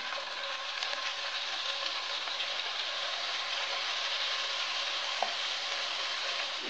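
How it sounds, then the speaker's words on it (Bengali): Chicken pieces frying in oil in a wok over spices, a steady, fairly quiet sizzle that continues evenly throughout, with a faint clink near the end and no talking. "এবার চিকেনগুলো কড়াইতে দিয়ে দিচ্ছি।"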